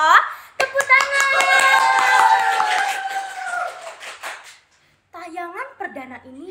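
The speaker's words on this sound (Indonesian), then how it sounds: "Tepuk tangan." Hands clapping at the opening of a junior high school podcast in Kunduran, a short burst of claps mixed in with voices talking and cheering, followed by more speech.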